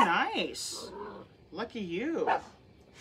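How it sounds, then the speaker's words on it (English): A small Pomeranian–Chihuahua dog yips and whimpers in short bursts near the microphone, mixed in with a woman's chatter in a home crafting setting. "We don't always have a barking dog in the background, but when we do."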